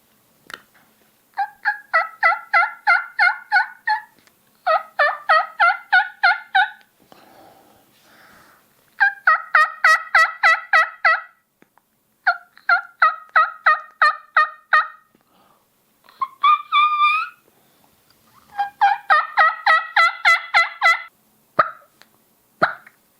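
A young hen turkey imitated on a mouth call: evenly spaced series of raspy, monotone yelps, about six groups of quick notes separated by short pauses, clear and close against a quiet background.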